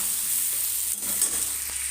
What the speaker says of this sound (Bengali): গ্যাসটাকে কিন্তু একদম হাই ফ্লেমে রেখেই আমি 3টে একসাথে একটু ভেজে নিচ্ছি